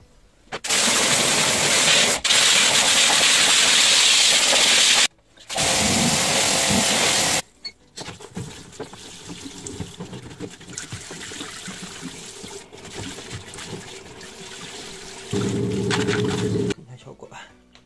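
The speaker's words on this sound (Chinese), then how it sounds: "这边呢已经拆完了，然后开始冲洗" Water sprays loudly in bursts over the disassembled parts of a washing machine, then drops to softer trickling and splashing with a few brief gaps.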